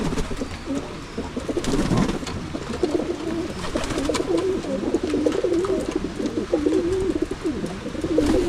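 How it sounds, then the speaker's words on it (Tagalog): Male pigeons coo continuously in low, throaty, rolling calls while they jostle over food, several birds close by with faint rustling and movement around them. "Bali pigeon yan."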